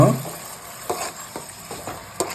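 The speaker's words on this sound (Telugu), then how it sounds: "బ్రౌన్ కలర్ వచ్చేంత వరకు అయితే ఫ్రై చేసుకోవాలి" Steady sizzle of Jalebi fish frying in a pan, with a few soft scraping stir strokes breaking through the hiss at irregular intervals.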